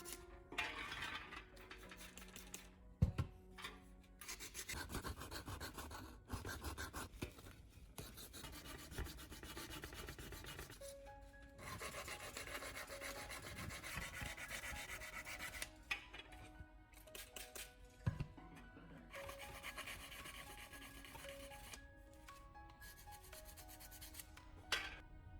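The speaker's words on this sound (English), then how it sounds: "use P400 sandpaper to smooth the surface" Repeated scraping of P400 sandpaper smoothing a plastic weld repair on a pair of broken eyeglasses, a steady close rasping rub with small clicks and brief pauses throughout, no talking.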